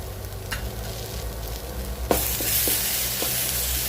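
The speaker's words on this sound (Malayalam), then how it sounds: "ഒന്ന് ഇളക്കി കൊടുക്കാം." Spicy toddy-shop crab roast is stirred in a pan with coriander powder and garam masala. A close sizzle runs throughout, punctuated by a few sharp scraping knocks, and it grows louder and brighter midway.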